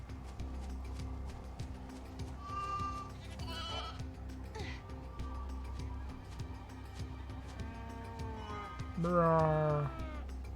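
Sheep in the Final Fantasy XIII-2 video game let out a few wavering bleats, one short call early and a louder, drawn-out bleat near the end, heard over quiet game ambience with faint background hum.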